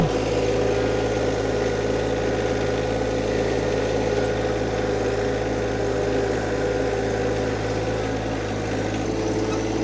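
A John Deere 1025R compact tractor hauling a heavy white oak log gives a steady, loud, low engine drone that runs evenly from start to finish.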